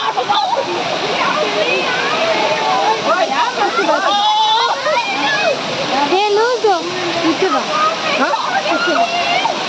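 Sirimane waterfall roaring close by, a loud continuous rush of falling, splashing water, with people talking and calling out over it throughout.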